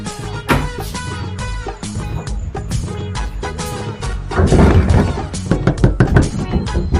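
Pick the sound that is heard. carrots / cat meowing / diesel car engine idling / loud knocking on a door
loud knocking on a door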